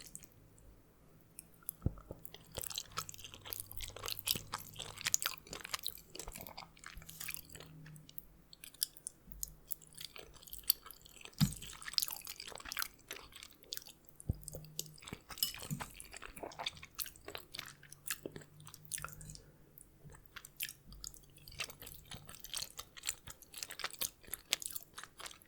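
Close, wet chewing of Kraft macaroni and cheese, with soft squishy bites and mouth clicks repeating steadily and quietly for a long stretch, no talking over it.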